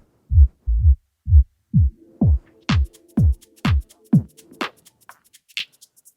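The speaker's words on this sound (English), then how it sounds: "As you can hear, this is a total kill EQ, so it totally kills each bandwidth" Rhythmic electronic beat played through a Pioneer DDJ-SB3 DJ controller with a total kill EQ cutting frequency bands: deep thumping kicks at first, then the bass drops out leaving thinner clicks and higher ticks, clear and without voices.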